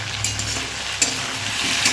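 Pieces of gathi kochu (taro) frying in a pan, a steady close sizzle with a few scraping stirs of a spoon against the pan and no talking.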